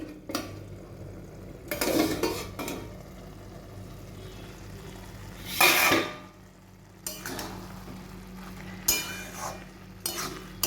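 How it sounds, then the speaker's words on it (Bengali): A lid lifts off a pot of banana flower curry cooked with coconut and split-pea fritters, followed by short bursts of metal spoon scraping and stirring against the pan, with clinks between quieter pauses and a soft simmer underneath. "ঢাকনাটা এবার খুলছি"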